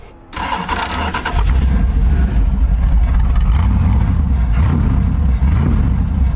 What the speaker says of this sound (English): Look at how much the bike moves with the torque of the engine.